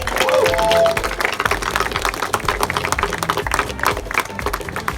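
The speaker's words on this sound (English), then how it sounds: "Can we have a round applause for huge round of applause for them?" A crowd at a motorcycle riders' meet-up claps together, starting with a loud burst that settles into steady, scattered applause. Some faint tones and low rumbles sit underneath it.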